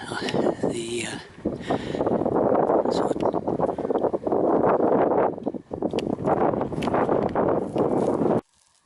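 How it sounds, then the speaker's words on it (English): Strong wind buffets across open moorland near Harlech, a loud continuous rushing roar with gusty surges and microphone buffeting, then cutting off abruptly near the end. "also I say it's quite breezy today"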